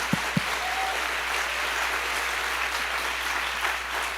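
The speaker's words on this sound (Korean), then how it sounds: "우리 목사님 박수로 청해서 모시겠습니다" A church congregation claps to welcome a visiting pastor at an autumn revival service, sustained even applause from a large room with a couple of sharp knocks at the start.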